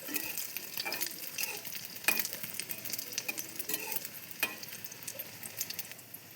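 Egg toast fries in mustard oil with a busy, crackling sizzle close by, broken by a few sharper stirring and scraping clicks, with no talk.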